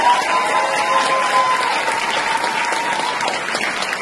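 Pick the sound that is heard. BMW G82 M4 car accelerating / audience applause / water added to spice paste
audience applause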